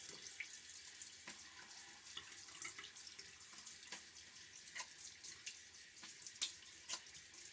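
A safety razor, a DE89-style head fitted with an Astra Platinum blade, is rinsed under a running tap, giving a steady hiss of water with a few brief splashy knocks as the razor moves through the stream.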